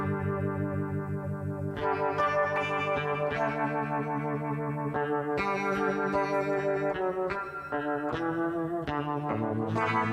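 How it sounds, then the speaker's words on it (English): An electric guitar is played through a straight reverb effect with the delay switched off, sustained chords and notes ringing with a soft wash of reverb throughout. "We'll turn the delay off, and now we've got just a straight up reverb."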